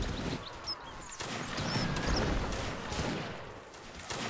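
Musket volley from a line of infantry in a Napoleonic Wars line battle, heard as a dense, crackling fusillade spread over several seconds, with scattered distant shots and faint voices behind it.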